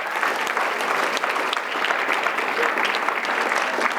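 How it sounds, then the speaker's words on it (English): Dense, sustained applause from a large audience, loud and even throughout with no talking. "let's give him another round of applause."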